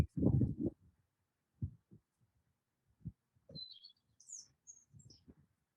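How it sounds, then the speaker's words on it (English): Scattered high bird chirps and tweets in the latter half, faint and intermittent, over low thumps and murmuring sounds earlier, at a site in Varberg with parked cars and traffic nearby. "There are a lot of birds singing and natural sounds as well as traffic sounds."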